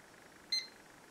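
A Miele Scout RX1 robot vacuum gives a single short, faint electronic beep as its timer button is pressed, alone over a quiet room hiss.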